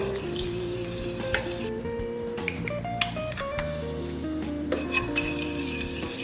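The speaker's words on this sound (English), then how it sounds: "Mix those together till they're really well combined" Honey, vanilla paste and other ingredients being mixed in a bowl for a coconut yoghurt panna cotta; a utensil clinks and scrapes against the bowl in a steady stirring rhythm, with a few sharper knocks.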